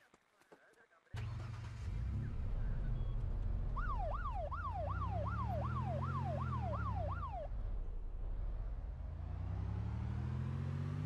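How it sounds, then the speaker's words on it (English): A police car siren wails in the video game ArmA 2, starting abruptly and cycling through a rapid rising-and-falling yelp for several seconds over the vehicle's engine hum, loud and close. "Why is the siren on?"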